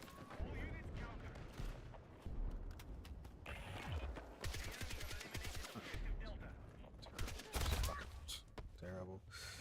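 Rapid gunfire in the Battlefield video game, dense bursts and repeated automatic shots running throughout alongside other game noise.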